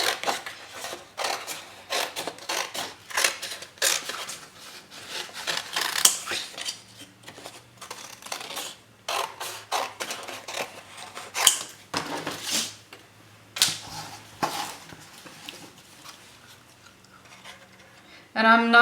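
Scissors snipping through paper to cut out an art journal piece of cacti on a wall, a run of close, crisp cuts with short pauses between them, alone and with no voice.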